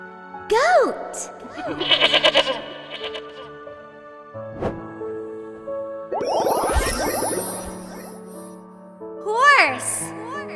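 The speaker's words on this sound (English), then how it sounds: "Goat." A goat bleats several times in wavering, nasal cries, with a voice speaking between the calls.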